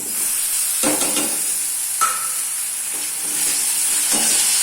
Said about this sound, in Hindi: अब इसके बाद मैं इसमें डालूंगी चॉप किए हुए टमाटोज।